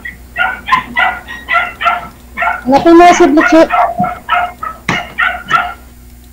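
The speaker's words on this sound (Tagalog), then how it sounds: "Daming aso." Several dogs barking in rapid repeated yips and barks, close and loud, with a burst of overlapping barking midway and a person speaking briefly between them.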